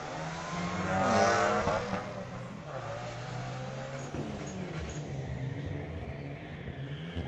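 A 2005 Chevrolet Cobalt is drag racing down the strip at a Friday night street legal drag event at Mission Raceway Park, its engine a steady roar that peaks early and then holds as the car pulls away.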